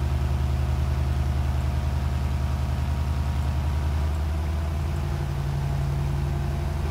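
Steady, loud engine drone of a Kenworth W900 truck cruising on a highway in Euro Truck Simulator 2, a continuous low rumble with a slight shift in pitch partway through and no talk over it.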